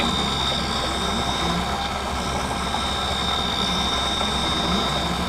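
Lens edging machine grinding the edge of an anti-glare prescription eyeglass lens with water, a loud, continuous whirring drone with a steady high tone over it and no talk.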